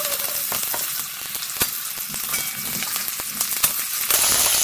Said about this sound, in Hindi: अभी हम इसमें कटा हुआ प्याज डालेंगे।